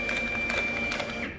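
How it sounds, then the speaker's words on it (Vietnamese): A Honeywell PC42t desktop barcode label printer running at increased print speed, giving a quick, steady mechanical whir with rapid rhythmic ticking as labels feed, close and alone. "em sẽ tăng cái tốc độ in của máy lên để cho mọi người xem"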